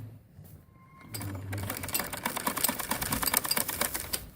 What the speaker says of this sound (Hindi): अब मैं कंधे सीने लगी हूँ।